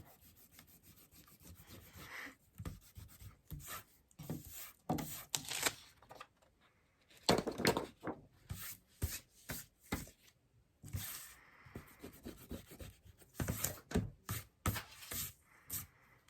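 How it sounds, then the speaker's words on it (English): A pencil eraser rubbing over a drawing of a cat on paper in quick back-and-forth bursts, close and crisp, with short pauses between strokes. "Finally, I'm going to erase. Get all that extra pencil off."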